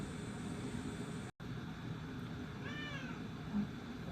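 A cat meows once in an anime episode, a short rising-falling cry over steady background hum, followed by a brief low thump.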